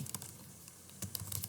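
Brief bursts of computer keyboard typing while renaming a file, a quick cluster of close clicks, then a pause, then another short run of keystrokes.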